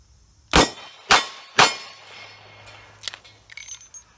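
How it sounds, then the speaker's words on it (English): .38 Special revolver fired three times at a range, three loud sharp reports about half a second apart, each with a short decaying tail, followed by faint metallic clinks. "I'll shoot all 3 of these"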